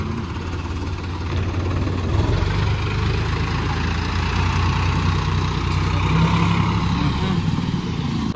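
A tractor's heavy engine rumbles steadily at idle nearby, a constant low drone with a faint vibrating hum and no voices.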